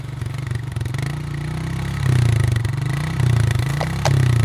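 A loud motorcycle engine fires up and settles into a rumbling idle with swelling revs and mechanical clatter, close and dominant, as a sound effect in an audio drama.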